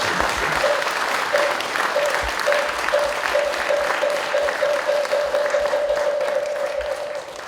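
Sustained audience applause after a Buddhist monk's dharma talk at a monthly temple service, a dense wash of clapping that stays steady and loud throughout, with no talk over it.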